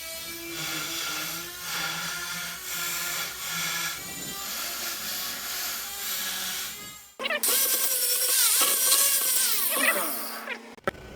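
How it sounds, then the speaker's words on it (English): A handheld Dremel rotary tool grinds against an aluminium Vespa scooter engine case, a steady whining buzz with shifting pitch for about seven seconds, then a louder, harsher burst of grinding until the end. "Get in there with a Dremel,"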